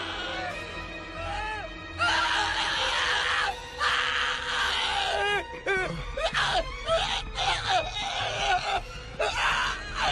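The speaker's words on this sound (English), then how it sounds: "What was with that scream?" Screams, wails and moans ring out in an animated drama, rising and falling in long harmonic cries that nearly fill the stretch, with brief gaps and overlapping voices.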